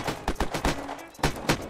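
Rapid gunfire in the Unturned video game, a series of sharp, close shots in quick uneven succession, with a brief lull before two more loud bursts.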